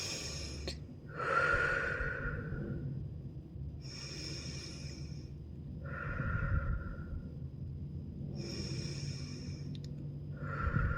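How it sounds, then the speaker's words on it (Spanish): Deep breathing during a relaxation exercise: slow, close inhales and exhales come in about five soft airy bursts with quiet pauses between them, and no one speaks. "Podemos, en este caso, contar de 1 a 5, inhalando profundamente y luego exhalando."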